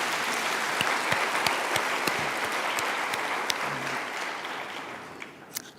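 A graduation ceremony audience claps steadily for the graduates, dense applause with a few sharper individual claps, fading slightly toward the end.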